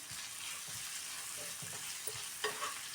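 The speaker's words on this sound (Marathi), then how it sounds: "गॅस कमी करून परतून घेऊया" Onion, garlic and green chili sauté in hot oil over reduced heat for a spicy onion thecha, giving a quiet steady sizzle with soft spatula scrapes and a couple of sharper knocks near the end.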